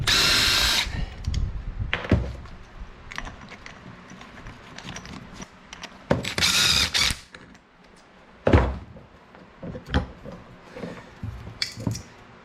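Power tool pulling the flywheel off a Yamaha Banshee engine with an Athena 421cc kit, heard as loud bursts of impact-tool hammering separated by quieter pauses and a few clanks, close by.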